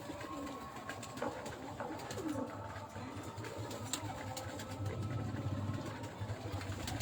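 A sturdy pigeon coos in low, rolling phrases close by, repeating throughout against a faint background hum with little other sound.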